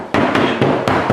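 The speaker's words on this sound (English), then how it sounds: "grabbed just a soft rubber mallet and just hit it around a little bit." A soft rubber mallet strikes the wooden panel of a Q*bert arcade cabinet in a series of dull, thudding blows, about five evenly spaced hits, close and fairly loud.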